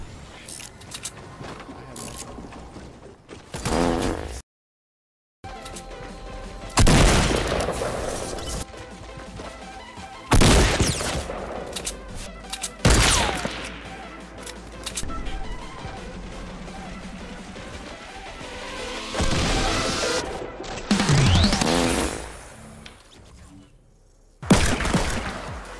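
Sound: gunfire in the video game Fortnite

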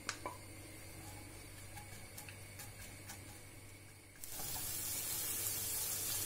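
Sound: onion and carrot frying in vegetable oil in a pan

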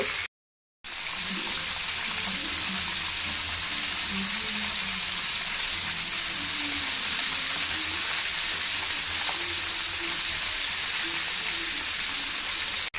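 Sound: chicken frying in oil over medium heat

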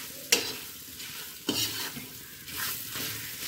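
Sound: stirring green chili pickle into the masala

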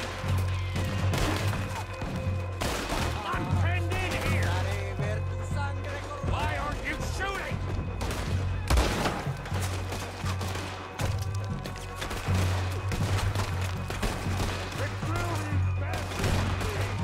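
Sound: gunfire in the video game Red Dead Redemption 2

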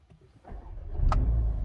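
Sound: A35 car engine starting

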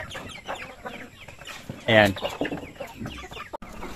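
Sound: chickens clucking in coop

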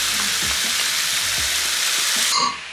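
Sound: peppers and mushrooms frying in a pan

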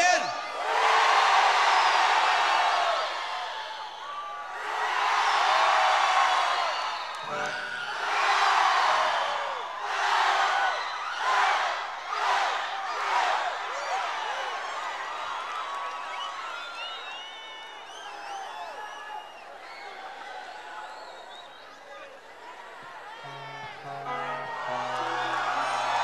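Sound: concert crowd clapping and cheering

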